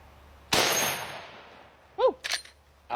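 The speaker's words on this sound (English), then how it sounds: "This is a faster bullet, 325 grains, looks like a little missile out of this 4570." A single loud gunshot from a 45-70 rifle firing a 325-grain bullet at a titanium target cracks out and trails off into a long, fading boom, followed by a short metallic clink and then brief noises.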